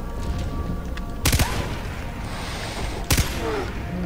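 Gunfire in the video game Far Cry 3: two heavy, booming volleys about two seconds apart cut through a steady background rumble from the game.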